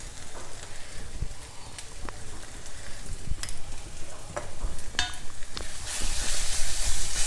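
Gongura rice mixture is stirred in a hot, oily pan, giving a continuous soft sizzle with scraping spoon strokes and sharper clicks that build louder toward the end.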